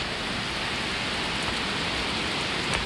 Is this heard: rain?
yes